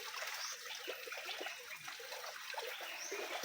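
Water trickles and splashes out of a large cement tank, a faint continuous patter with no voices over it.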